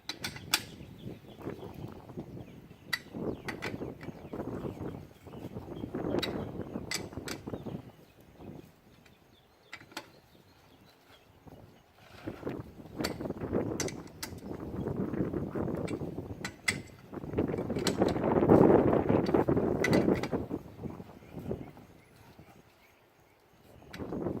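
Lug bolts on a car wheel are tightened during a tire change, giving a steady run of close metallic ratcheting clicks and knocks in irregular bursts, with no talking.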